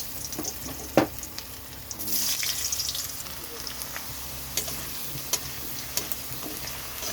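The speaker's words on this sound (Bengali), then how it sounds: "ওই তেলের মধ্যে দিয়ে দিচ্ছি আলু" Potatoes dropped into hot oil in a pan while cooking jackfruit and prawn curry, giving a soft steady sizzle with a few clinks and scrapes of stirring, fairly quiet.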